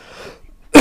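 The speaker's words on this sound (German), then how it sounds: "Muss ich gerade mal husten, tut mir leid." One short, loud cough bursts out at the very end after near silence, sharp and close.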